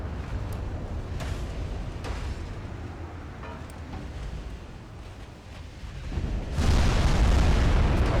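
Battleship naval gunfire with 16-inch guns in the warship game Ultimate Admiral Dreadnoughts: a continuous rumbling roar of distant shots and impacts, swelling into a louder, heavier blast near the end.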